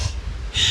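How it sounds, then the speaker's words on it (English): A short, forceful exhale through the nose and mouth during a strength workout, close and breathy, followed by a sharper hiss of air. "Strong breath."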